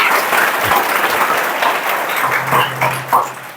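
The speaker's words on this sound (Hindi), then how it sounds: "एक बार जोरदार तालियां हो जाए भाई इसके लिए।" A crowd claps enthusiastically at a public gathering honoring a water conservation volunteer, a moderately loud wash of applause with a few sharper individual claps and faint background voices.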